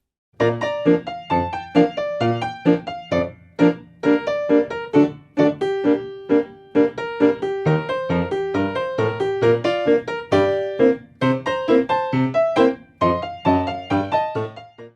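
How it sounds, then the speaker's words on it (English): A piano piece played without the damper pedal, short, detached notes stopping abruptly, leaving clear gaps between chords in a bouncy, choppy rhythm. "A song played without the pedal sounds like this."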